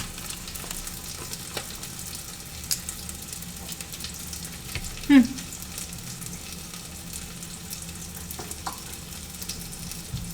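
Onions sizzling as they fry, some starting to burn, a quiet steady crackle close by with scattered small pops and a brief sharper clatter near the middle.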